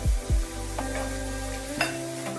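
Thinly sliced tomato fries with other vegetables in a pan over a medium-low gas flame for simei upma, giving a steady close sizzle with a few stirring scrapes and clinks and no talk.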